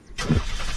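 A car engine in the survival game Unturned cranks and catches abruptly, then settles into a steady, close idle for the rest of a brief moment.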